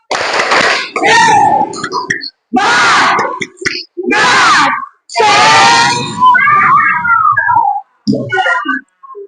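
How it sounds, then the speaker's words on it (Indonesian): A school class performs a spirit clap chant in a classroom, the group shouting loudly in short rhythmic bursts separated by brief pauses, energetic and close, with the clapping itself barely distinct under the voices. "Oke, tepuk semangat."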